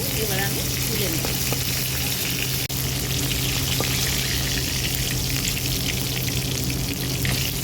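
Fish frying in a pan crackle and sizzle steadily and up close, a dense hiss with no pause and faint kitchen noise underneath.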